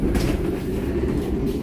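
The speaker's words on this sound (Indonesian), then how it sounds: "Sekarang saya sudah naik kereta dan keretanya sudah berangkat." Inside a moving economy-class passenger train, a continuous low rumble and rolling drone of the carriage carries steadily throughout.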